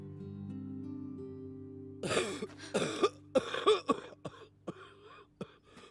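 In the video game Fist of the North Star: Legend of Raoh, a low hum gives way to a series of harsh, raspy coughs, several in a row with strained throat clearing and sharp gasping breaths between them.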